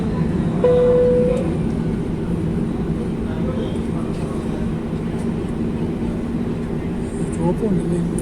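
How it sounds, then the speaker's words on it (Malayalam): A low, steady jet engine drone hums throughout, with a faint whine and some background murmur, as a Qatar Airways airliner taxis slowly on the ground nearby. "ഇത് ഖത്തർ എയർവേസിൻ്റെ ഫ്ലൈറ്റ് തന്നെയാണ് അതാ പോകുന്നത്"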